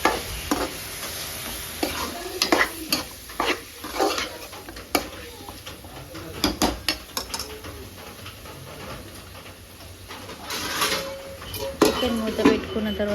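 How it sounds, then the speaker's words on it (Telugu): Chicken pieces with salt are stirred in a pot, with repeated scraping and knocking strokes against the metal. The steady, close stirring runs throughout over a hissy kitchen background. "మంచి కలిపి మూత పెట్టేసుకోండి అలానే మీరు కొంచెం సాల్ట్ కూడా యాడ్ చేసుకుంటే ఏమవుతుందంటే చికెన్ పీసెస్కి మంచిగా సాల్ట్ అనేది పట్టుకుంటుంది"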